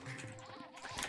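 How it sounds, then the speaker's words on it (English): Sheep bleating in Age of Empires II DE, a short wavering bleat over game background sound, fairly faint. "Bring in the sheep for everyone here."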